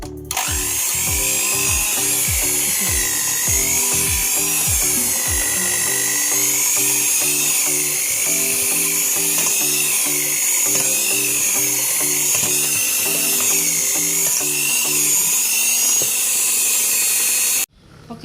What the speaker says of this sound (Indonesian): mari kita mixer adonannya. Kita pakai dengan kecepatan sedang dulu, kemudian nanti lanjut ke tahap level yang paling tinggi